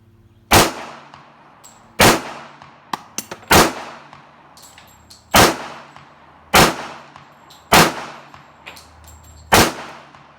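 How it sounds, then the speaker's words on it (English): Seven loud, sharp gunshots from an Auto Ordnance 1911 A1 pistol at an outdoor range, fired alone at a steady pace about a second and a half apart, with a few faint metallic clicks between. "So when I sit down and shoot my 1911, I'm right in the middle of the target."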